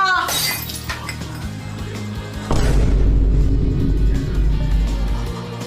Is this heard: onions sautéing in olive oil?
no